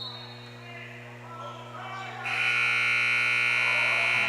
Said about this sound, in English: the buzzer sounds to end the quarter